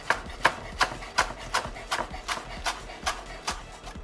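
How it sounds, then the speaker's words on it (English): A knife chops parsley roughly on a board in about a dozen quick, evenly spaced taps. Each cut is crisp and close, with no talk over it. "Take your parsley, just give it a rough little chop as well."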